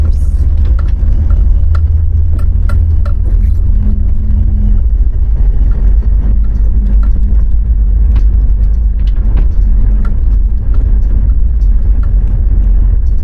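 A loud, steady engine rumble from a 1.8-litre B-series Morris Marina Estate, with rattling and jolting noises throughout as the old car labors continuously up a bumpy hill.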